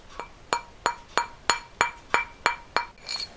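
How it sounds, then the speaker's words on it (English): A rawhide mallet taps a metal ring on a jeweller's mandrel about nine times in an even rhythm, each crisp knock leaving a short bright metallic ring, close and clear. "give it a tap with your rawhide mallet"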